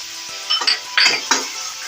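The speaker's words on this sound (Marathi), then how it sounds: "कढीपत्ता मिरची लसूण पेस्ट मिक्स करायचं आहे" A spoon clinks and scrapes in a pan in three or four quick strokes, mixing curry leaves, chili and garlic paste, close and fairly loud.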